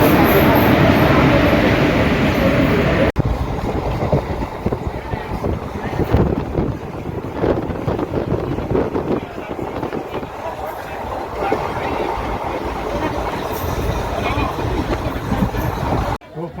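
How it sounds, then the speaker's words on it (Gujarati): A train bound for Botad pulls into a railway station with a loud, continuous rumble and wind buffeting the microphone, while people talk over the noise. "તો બોટાદની ટ્રેન આવી ગઈ છે."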